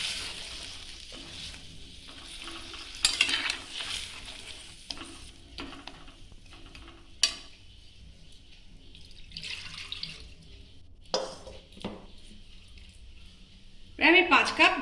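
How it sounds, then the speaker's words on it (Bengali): Water is poured into a pan of drumstick vegetables cooking for a mustard curry, giving bursts of splashing and sizzling among clinks and stirring, while a person talks over parts of it. "একটু জল দিলাম"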